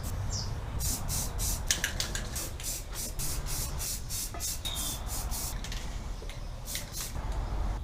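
A spray gun lays down the final coat of paint on parts for a 1965 C10, firing in rapid repeated hissing bursts of varying length close by, with short gaps between passes.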